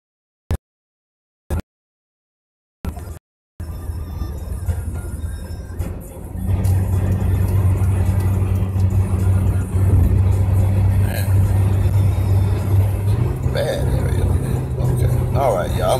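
A car is driving, heard through a phone call with a bad connection. After a few clipped dropouts, a steady engine and road drone settles in and runs continuously, muffled and compressed, while someone talks over it.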